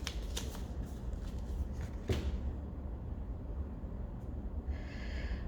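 A deck of tarot cards being shuffled close by, a few quick riffling bursts early on over steady low room hum, with no talk.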